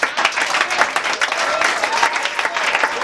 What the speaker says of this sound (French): J'aimerais que tu acclames le Seigneur très bien.